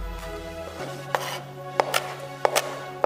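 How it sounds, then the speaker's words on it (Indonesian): Knife chopping ingredients, such as chilies, on a board for a potato, gizzard and liver balado: a handful of sharp, irregular taps over a steady humming tone. "kita potong-potong dulu bahan-bahannya yang mau di blender"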